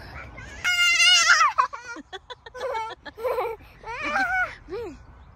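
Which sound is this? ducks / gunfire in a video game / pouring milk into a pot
ducks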